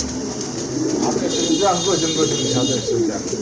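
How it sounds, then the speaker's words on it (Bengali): Soft cooing from white Bombay pigeons murmurs in the background while someone talks over it nearby, at a pigeon sale. "আরেক এক জোড়া কবুতর দেখতে পাচ্ছেন হোয়াইট বোম্বাই"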